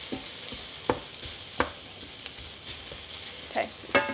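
Minced beef tipped into a pan of softened onions for a bolognese, giving a quiet sizzle with scattered scrapes and clicks of stirring, fairly faint and close, with no talking.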